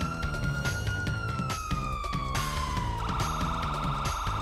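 Police car siren from Grand Theft Auto with the patrol lights shot out, a loud continuous wail over a busy game soundscape and music, its pitch sliding down and then turning into a harsh, distorted tone.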